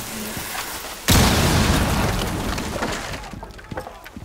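A thermite breach charge detonates in Rainbow Six Siege on the Consulate map during Terrorist Hunt: a sudden loud boom with a crackling, shattering burn that tails off over a few seconds.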